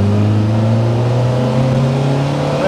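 Lotus Elise S1 accelerating hard on a Singapore road, heard from inside: a loud, close engine note climbing steadily in pitch as it revs, with no talking over it.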